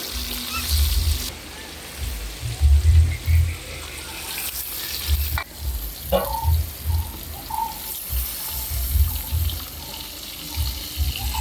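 Onions sizzle steadily in a hot pan as the base for a Jaffna-style fish curry, a continuous crackling hiss with soft low bubbling pulses and no voices.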